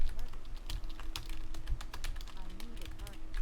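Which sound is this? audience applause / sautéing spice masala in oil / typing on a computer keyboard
typing on a computer keyboard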